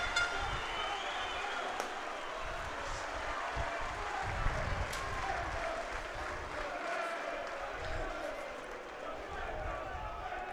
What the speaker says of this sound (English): LNER Community Stadium, packed across to our right, giving their favourite players a cheer